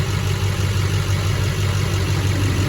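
2008 Duramax LMM diesel truck engine with dual alternators idling, a steady, loud low rumble with even clatter throughout, close and continuous, no voices.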